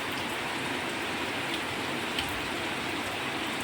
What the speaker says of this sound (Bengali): সকাল থেকেই প্রচুর বৃষ্টি হচ্ছে যাকে বলে একদম মুসুল ধারায় বৃষ্টি